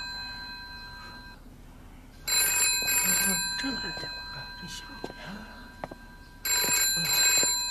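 A telephone rings in bursts of shrill electronic bell tones, two separate rings with a pause between, loud and close over a quiet room with faint background sounds.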